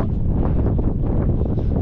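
Cold wind blows across Sugar Loaf Mountain in Wales, buffeting the microphone with a constant loud, close roar and low gusting rumble.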